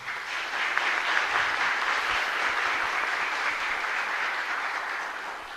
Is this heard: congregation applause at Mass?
yes